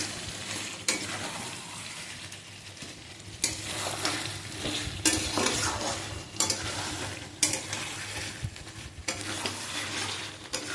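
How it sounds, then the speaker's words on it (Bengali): Meat is slowly stir-fried in a kadai with little oil, a steady sizzle broken by repeated scraping strokes of the spatula against the pan, close and with no talking. "আর হচ্ছে এরকমভাবে মানে ধীরে ধীরে কষিয়ে কষিয়ে রান্না করব।"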